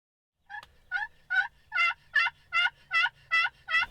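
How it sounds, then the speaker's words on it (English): A wild turkey in an open field calls in about nine evenly spaced, clear, ringing notes, loud and near, with nothing else audible. "We're on a field that we've seen a couple gobblers strutting on in the morning."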